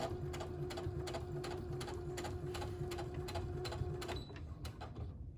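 A sewing machine stitches a children's cloth face mask through thick seams with extra fabric, a steady close mechanical whir with rapid regular needle ticks, running continuously then slowing near the end.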